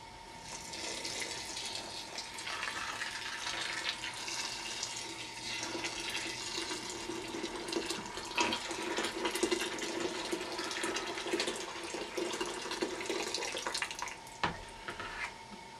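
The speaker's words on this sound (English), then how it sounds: "Pour in 6 pints of boiling water, and this is the first 3 pints" Boiling water pours steadily into a bin for rosehip and fig wine, a continuous splashing, gushing flow that runs for several seconds close by.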